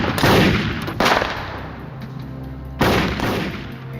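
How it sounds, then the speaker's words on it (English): Gunfire from a shooter in an FBI shootout, three sharp, loud reports spaced about a second or two apart, each followed by a long rolling echo. "he continued to advance and fire"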